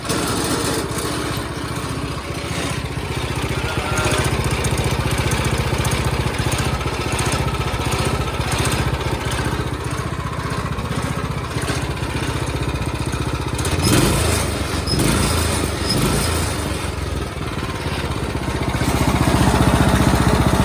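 A small go-kart engine idles with its governor in, and a loose rattle rides on the steady, close engine drone, which swells slightly near the end.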